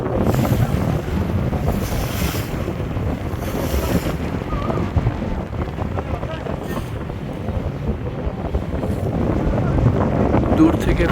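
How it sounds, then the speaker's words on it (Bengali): A passenger launch passing at night on the river route from Dhaka to Bhola, heard as a loud, steady rumble under heavy wind and rushing water that continues unbroken. "সেই সিরিজের আরেকটা লঞ্চ যাচ্ছে সম্ভবত ফারাম দশ হবে"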